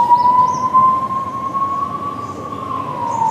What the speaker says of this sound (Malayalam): മക്കളെ ആംബുലൻസ് പോയി കഴിഞ്ഞിട്ടുണ്ട്.